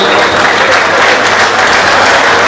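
Loud, dense applause from the audience at a Kavala football association celebration for the coach, a sustained, close burst of clapping without any speech.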